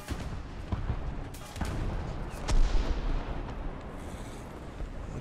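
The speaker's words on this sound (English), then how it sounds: "Okay, Artie's starting to fall." Artillery shells landing around a light tank in a tank video game, with repeated dull booms and crackling impacts, one heavier hit near the middle, over a steady rumbling backdrop.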